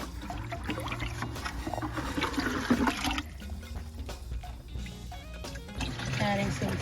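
Homemade plant fertilizer poured from a container into a bin in a Zone 7b garden, a steady splashing pour under background music, with a person talking over it.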